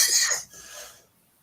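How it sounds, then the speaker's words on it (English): A single harsh cough, close and fairly loud, fading into a short breathy tail and then near silence, heard on a live stream. "You're in fine company for coughing on air."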